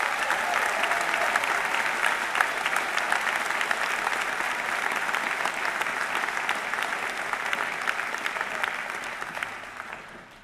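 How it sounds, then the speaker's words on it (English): An audience at a high school closing ceremony and graduation applauds award winners, a full, sustained round of clapping that holds steady for about ten seconds before tapering off at the end. "Ladies and gentlemen, please join me in applauding this year's Carol Lobb Award winners."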